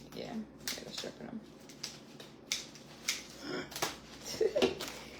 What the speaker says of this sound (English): We're having troubles with the scissors, the sharpness of the scissors.